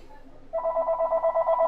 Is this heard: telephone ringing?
yes